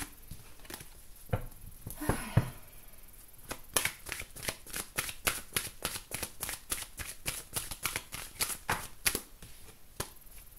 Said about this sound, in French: Je remélange bien parce que je veux pas que les énergies du tirage précédent soient restées.